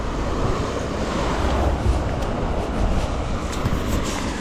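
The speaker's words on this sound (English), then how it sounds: "I hope you can hear me in this wind." Strong wind blows outdoors beside a railway construction cutting in the Waddesdon countryside. It makes a loud, continuous buffeting roar with low rumbling gusts and no pause, and no one talks.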